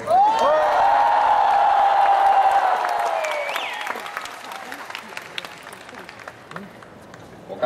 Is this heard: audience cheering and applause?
yes